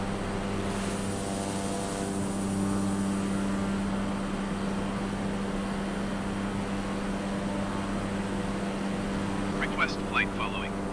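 A Cessna 208 propeller plane climbing after takeoff in Microsoft Flight Simulator, a steady droning engine and propeller tone with a constant hum throughout, while someone talks over it.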